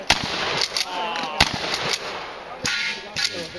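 Rifle and pistol shots crack out in quick irregular bursts at a 3-gun shooting match on an outdoor range, with an AR-15 and Glock 17 in use, loud and close, several sharp reports spread across the few seconds.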